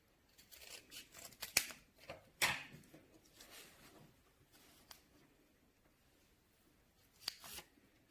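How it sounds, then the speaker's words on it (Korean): Scissors cutting felt for a traditional-play craft: several quiet close-up snips and rustles of fabric in short bursts, with pauses between cuts. "그래서 또 펠트지를 잘라줍니다."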